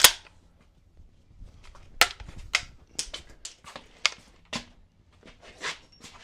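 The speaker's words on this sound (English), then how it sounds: "Moving up to the 12 gauge, we're shooting our slug." A 12 gauge shotgun fires a slug at a 45-pound weight plate: one sharp, loud report opens, followed by a scattered series of fainter clanks and clicks.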